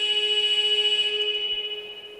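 A steady electronic buzzer sounds at a women's basketball league game between Nottingham Wildcats and Sevenoaks Suns, holding a sustained tone for about two seconds that slowly fades.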